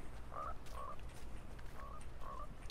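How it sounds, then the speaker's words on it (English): A frog croaks in the Fortnite video game, four short croaks in two pairs of two, fairly faint over a low steady game background. "don't shoot the frog"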